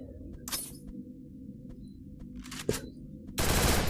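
Gunfire in a video game shooter match comes as a few sharp cracks and faint scattered shots, ending in a loud, dense burst of noise.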